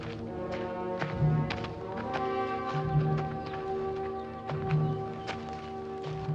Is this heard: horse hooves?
yes